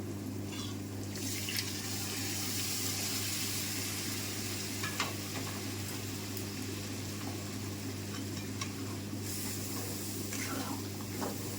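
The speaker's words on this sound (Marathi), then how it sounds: "आता मी ह्यात ना जी आपण डाळ शिजून घेतली होती का ती ॲड करणार आहे" Cooked dal poured into a hot masala tadka for dhaba-style dal fry sizzles loudly and steadily, a dense crackling hiss with a few sharper spatters and a low hum beneath.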